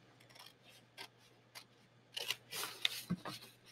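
Scissors cutting paper sheets for a weaving loom, heard as soft, close snips and crisp clicks, sparse at first and then quicker in a short cluster, faint against a low steady hum.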